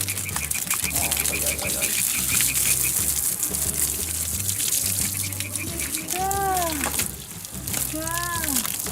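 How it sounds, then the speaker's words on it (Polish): Water is poured and gushed over a horse during its bath, a steady splashing stream close by. Squeaky, chirping sounds come through partway, with a low hum underneath. "teraz polejemy sobie konia wodą"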